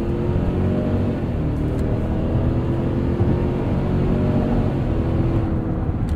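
Steady engine drone of a 2021 Cadillac Escalade Sport Platinum pulling forward, a continuous low rumble with road noise heard from inside the cabin, no voices over it.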